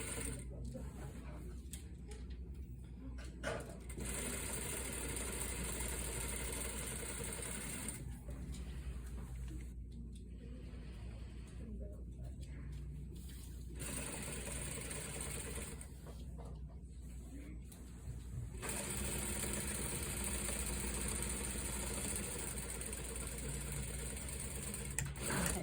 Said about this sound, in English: So I would overlock the seam